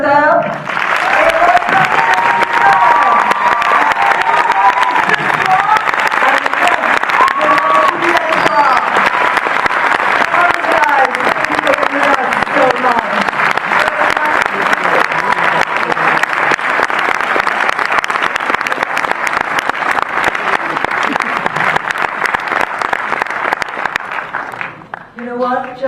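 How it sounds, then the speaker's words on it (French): An audience in a hall breaks into dense, loud applause that holds steady for about twenty-five seconds before tapering off sharply at the end. "De nouveau, une salle d'applaudissements."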